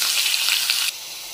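Boiled banana and eggplant hit hot oil tempered with panch phoron, giving a loud, bright sizzle with a few crackles that drops abruptly to a softer, steady hiss.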